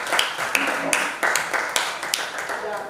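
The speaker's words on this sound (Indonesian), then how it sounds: "tepuk tangan untuk Lydia" Classroom applause for a student named Lydia, a scatter of claps and taps from a group of students, moderately close, with a murmur of voices underneath.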